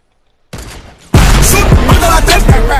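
Rapid gunfire in the video game Fortnite, with a softer lead-in, then a dense loud volley of repeated shots from about a second in, sharp bursts punching through a sustained roar.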